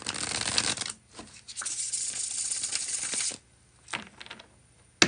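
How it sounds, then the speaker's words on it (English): Tarot cards are bridge shuffled in a dense, fluttering riffle that lasts about two seconds, followed by a shorter riffle and soft card taps, close to the microphone with no talk. "Bridge shuffle."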